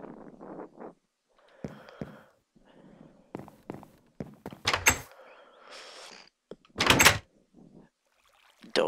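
A door opening and closing in the Minecraft video game, heard as short sharp clicks and thuds between scattered game sounds and footsteps.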